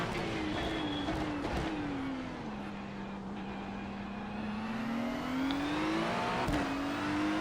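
A Ferrari 296 GT3 races at Spa-Francorchamps, Belgium, in the iRacing video game, its engine a steady close drone that eases off, then builds and climbs again, with no one talking.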